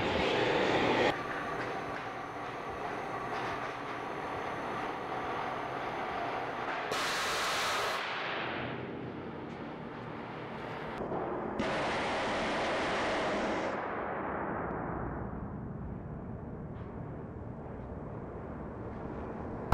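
A steam relief valve pops off with a loud hissing roar of venting steam, and the blast comes in bursts. It runs on for several seconds beneath steady machinery rumble, then trails away.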